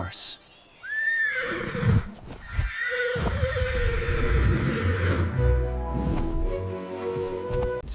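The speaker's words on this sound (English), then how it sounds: "Horse." A horse neighs with a loud, rising-then-falling whinny, followed by snorts and shaky trailing calls over a busy background at a zoo.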